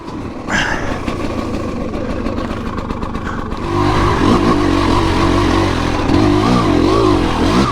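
A 2022 TM Racing EN300Fi fuel-injected dirt bike engine runs close and loud, idling roughly before opening into a stronger sustained rev with rising and falling pitch in the last few seconds.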